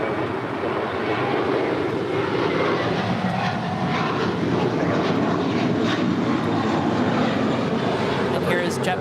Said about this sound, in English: JetBlue Flight 100 off to Fort Lauderdale, Florida on an A321